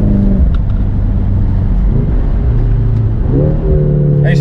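A BMW M6 convertible engine rumbles steadily up close with the top open, then revs and climbs in pitch near the end, with faint wind noise in the background.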